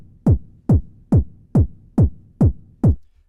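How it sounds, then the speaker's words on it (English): Seven punchy UK garage kick drum hits in an even, steady rhythm, each a short thump with a falling pitch and a boxy low-mid body, alone. "Really nice and thumpy with quite a lot in the low to mid end."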